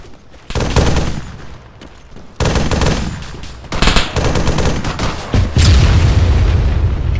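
Heavy gunfire in Arma as sustained automatic bursts and booming shots crackle almost without pause, loud and close, growing denser toward the end.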